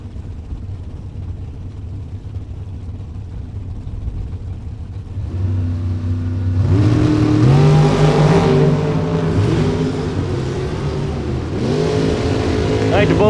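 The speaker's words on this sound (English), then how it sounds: "They're both driving dragsters." Two dragsters at a drag strip: a low idling rumble gives way to a loud, rising engine roar as the cars launch and accelerate away, with a PA announcer's voice faintly under the noise.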